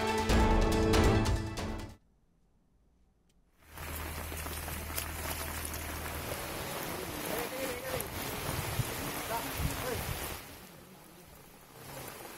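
Heavy monsoon rain in Madikeri, Kodagu, a dense steady hiss of downpour after a loud opening burst and a short silent gap, continuing evenly before fading quieter at the end.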